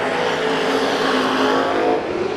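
IMCA stock cars racing at Bakersfield Speedway, engines screaming loudly at high revs as the pack roars past close by in a continuous, sustained burst.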